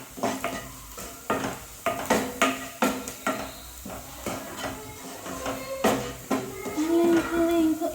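Onion frying in a pan for a home-style chicken curry, with repeated loud stirring scrapes and clanks of a utensil against the pan over a soft, steady sizzle.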